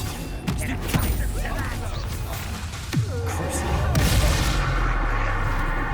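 Confringo blast spells in the Hogwarts Legacy video game, several booming explosive impacts mixed with other spell effects over a busy, continuous battle din, with grunts and gasps between the blasts.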